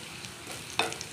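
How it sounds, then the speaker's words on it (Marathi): Crushed garlic roasting in hot oil with cumin and mustard seeds gives a soft, steady sizzle, with a brief louder crackle near the end. "जिरं मोहरी टाकलं, लसूण टाकला आहे. तर लसूण चांगलं भाजून घ्यायचं."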